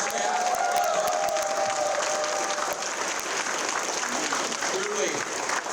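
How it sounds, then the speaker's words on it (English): A large conference audience claps together for the Southeast Asia NuSkin team, a dense, steady wash of applause with a few cheers, heard from within a big hall. "let's give our Southeast Asia NuSkin team a round of applause"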